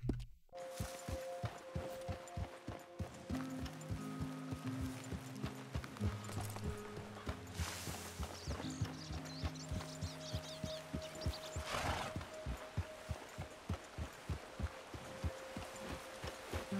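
Steady clip-clop of a horse's hooves in Red Dead Redemption 2, a regular walking rhythm that runs nearly throughout at moderate loudness over game ambience, with faint bird calls and a few soft musical tones.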